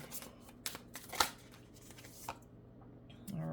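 Tarot cards are drawn and slid from a deck, giving a few soft papery shuffles and flicks close by in a quiet room, with a brief louder snap partway through.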